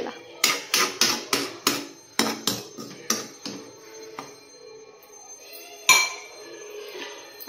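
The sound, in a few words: putting a lid on a cooking pot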